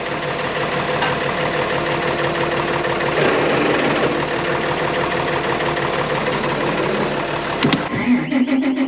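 A car engine runs steadily and loud nearby, swelling slightly midway as it pulls away, then cuts off abruptly near the end with a brief clatter.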